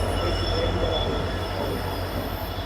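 A train arrives at Adirampattinam railway station in the evening with a loud, continuous rumble and a high, steady wheel squeal throughout, with no talk.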